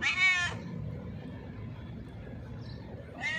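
A homeless cat begging for food gives two loud, close meows, one at the start and another at the end, with a quiet low hum between them.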